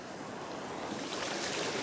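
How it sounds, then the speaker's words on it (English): Ocean waves breaking on a sandbar at a fishing beach, a steady, broad wash of surf with a continuous roar and some wind, fairly close and even throughout. "I'm just going to watch where these waves break."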